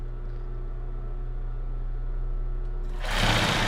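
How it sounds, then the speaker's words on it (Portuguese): A semi-industrial sewing machine stitching lace panties hums with a steady motor drone close up, then breaks into a louder, rapid rattling run of stitching near the end. "Você vai fazer em qualquer máquina que você tiver em casa, uma doméstica."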